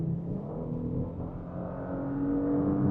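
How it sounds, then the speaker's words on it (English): A 2025 Audi A5/S5 engine revs and builds steadily in dynamic mode, a rising growl with a whine on top that grows louder toward the end. "Yeah, you're getting some cool engine noises."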